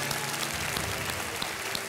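Studio audience applause on a televised quiz show, a steady dense clapping that fills the whole short stretch with a few sharper claps standing out.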